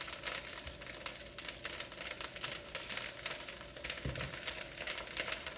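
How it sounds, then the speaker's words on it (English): Kale leaves sizzling and crackling in hot oil in a pan, a steady dense frying hiss with fine crisp pops throughout, close and moderately loud, with no voices. "lower it in, a nice little sizzle."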